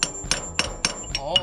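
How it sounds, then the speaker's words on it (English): Five sharp metallic hammer strikes drive a roll pin into a Spartan Locker, evenly spaced and close, each a crisp ringing tap. "and then you drive your roll pin back in place"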